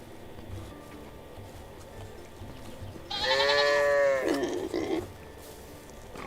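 A sheep bleats on a Medieval Dynasty farm: one drawn-out, wavering bleat rises clearly over faint ambient background, followed by a shorter trailing cry.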